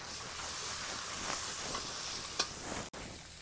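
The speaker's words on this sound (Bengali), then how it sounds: "এইভাবে ভালো করে কষিয়ে নেব।" Spice masala with turmeric, red chili powder and green chilies frying in oil with a splash of water for egg malai curry, a soft continuous sizzle and hiss with occasional stirring clinks.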